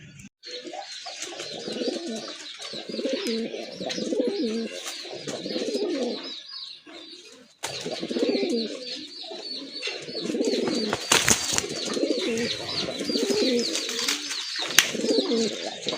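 Domestic pigeons, a pair of large light-blue fancy birds with feathered feet among them, cooing close by in repeated low, throaty phrases with short gaps, some soft chirps and rustling, and no talk.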